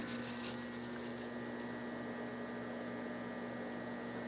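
An old Lincoln AC 225 welder idling quietly, a low steady electrical hum with a constant drone like a refrigerator, unbroken and even for the whole stretch.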